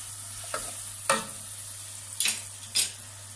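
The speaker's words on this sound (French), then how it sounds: "comme vous pouvez voir, les oignons commencent à suer, commencent à devenir tendres" Onions sweating in a pan while vegetarian lasagne is prepared, a soft steady sizzle running under a low hum, broken by four sharp scraping stirs; no one talks.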